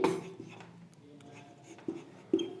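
During an English grammar lesson, a sentence is written by hand, heard as faint scratchy strokes with a few sharper taps, close and quiet, with no talking.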